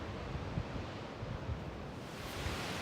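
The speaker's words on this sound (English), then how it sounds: "we were expecting today was winds gusting up to 45 and 50 miles an hour, and you can hear it" Strong wind gusts roar and buffet the microphone on a high mountain ridge, a steady broadband rush with brief louder surges and no voices.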